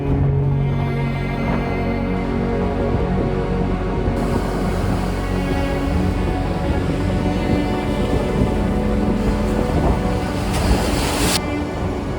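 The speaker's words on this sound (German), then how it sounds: "Traumhaft schöne Küste hier, rauen Wellengang." Rough waves on the windy North Sea coast of Denmark, a loud continuous surf roar mixed with strong wind buffeting the microphone, steady throughout with no talking.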